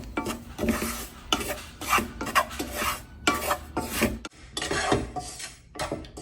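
Fine semolina roasting in a spoonful of ghee in a pan for kheer, stirred with a spoon that scrapes the pan in steady, close, rhythmic strokes, with no one speaking.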